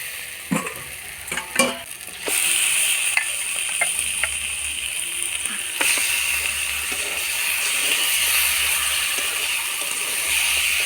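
Marinated chicken pieces dropped into hot spiced oil for a Bengali chicken curry: a few clattering knocks, then a loud, continuous sizzle with occasional stirring scrapes, close and unvoiced.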